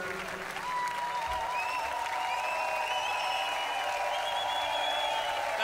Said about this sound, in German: Applaus für die Ansapanie.